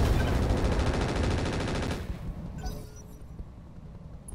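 Dense rapid weapon fire from mechs in the BattleTech mod Roguetech, a loud continuous barrage for about two seconds that cuts off into quieter rumbling, scattered clanks and fading echoes.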